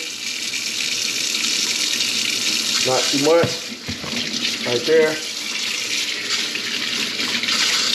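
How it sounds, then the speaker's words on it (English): Warm water runs steadily from a tap into a stoppered kitchen sink for washing a dog's food bowl, a loud continuous gush with a person speaking briefly over it. "Get a little bit of warm water, a little bit of dish soap."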